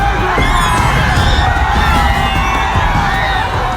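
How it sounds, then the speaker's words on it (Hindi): Dense, loud rally crowd cheering and shouting at a Bihar election rally, a continuous roar of many voices with whoops and yells, chanting for Tejashwi blended into the din. "तेजस्वी जिंदाबाद का शोर गूंजने लगा।"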